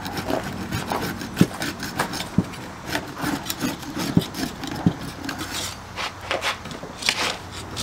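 Rough scraping and rubbing as old glue is worked off the seal surface of an RV window on a towel-covered table, with a steady rasp and scattered sharper knocks from the tool.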